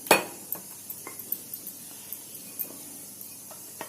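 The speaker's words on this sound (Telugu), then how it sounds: "కూరను గిన్నెలకు వేసుకుంటాను" Spinach and moong dal curry is ladled from a pot into a bowl: one sharp metal clink at the start, then a light, irregular run of soft scraping taps and spoon knocks, close and fairly quiet, with no talking.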